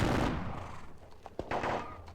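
Musket and cannon volleys in a Napoleonic battle wargame crack and rumble as a dense, distant-sounding fusillade, with a few sharper reports standing out near the end.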